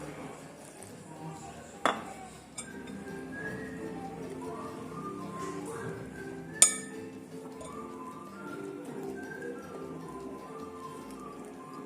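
Pandan leaf juice is stirred into onde onde dough in a bowl, with soft scraping and clinking of utensil against dish, punctuated by two sharp knocks, under faint background talk.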